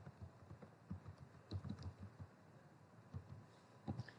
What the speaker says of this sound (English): I am typing a statement.